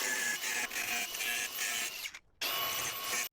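A power wire brush scours rust off metal parts of a homemade barbecue before welding, a loud continuous harsh whirring grind with a brief cutout near the end.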